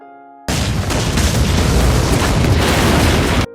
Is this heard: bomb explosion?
yes